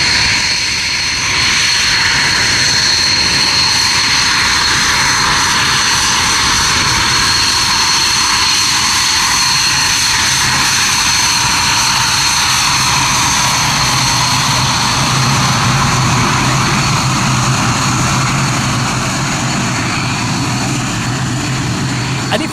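A military jet flying at the Waddington airshow gives a loud, sustained engine roar with a steady whine that fills the whole stretch without a break.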